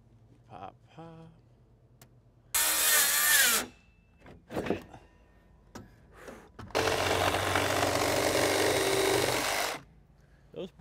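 A saw fitted with a 9-inch Diablo carbide-tipped pruning blade makes two cuts through wood during roof sheathing work: a short burst first, then a longer, loud, rasping cut of about three seconds, with brief knocks and voices in between.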